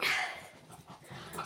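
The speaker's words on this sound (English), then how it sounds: "So right now we have my dogs being very annoying" Dogs panting and whimpering indoors, a close rhythmic breathy panting with faint whines, loudest at the start and continuing steadily throughout.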